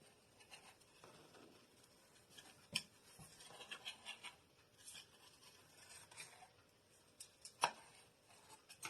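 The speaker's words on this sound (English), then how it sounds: "I'm going to take a knife and go around it." A knife scrapes around the edge of a baked cheesecake in its pan, faint soft scratching and light taps with two sharper clicks, quiet and close with no talking.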